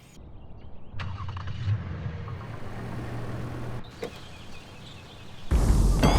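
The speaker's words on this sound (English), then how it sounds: "Did you start the car?" A car engine starts remotely with a key-fob remote start, cranking into a low steady rumble that idles for a few seconds, followed by a clunk and a sharp burst of noise; no one speaks.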